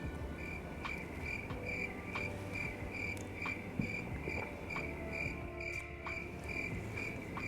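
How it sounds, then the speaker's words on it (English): Steady, rhythmic cricket chirping repeats continuously with no pauses, forming a dense insect chorus over a soft background hum. "that's right, crickets."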